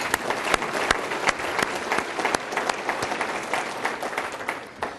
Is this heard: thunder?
no